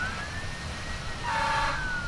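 Fire engine sirens wail from the SimCity video game, a steady high tone faint and distant at first, then a second siren swells louder, with no talking.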